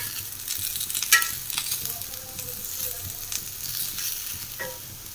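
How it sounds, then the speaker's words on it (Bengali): Food fries in an oiled flat pan (chatu) with a close, steady sizzle, broken by a few sharp scraping stirs and clinks of a utensil against the pan. "ভাবলাম এটাতেই যখন তেল মাখানো আছে এটাতেই ভাজি"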